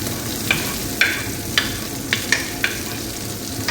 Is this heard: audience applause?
no